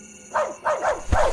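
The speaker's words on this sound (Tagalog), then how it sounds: "Ang ingay ng aso sa labas." A dog barks outside at night in a village in Negros, three or four sharp barks in quick succession, fairly loud and with no voices over them.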